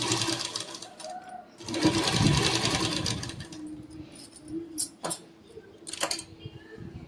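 Close by, a sewing machine stitches piping inside a round neckline in two fast whirring runs, the longer one in the middle, followed by light clicks and handling noises as the fabric is adjusted.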